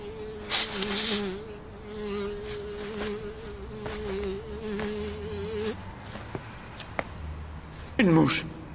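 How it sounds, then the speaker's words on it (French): A fly buzzes steadily close by for several seconds, its drone wavering in pitch, then it stops and a few clicks and rustles follow. "Une mouche."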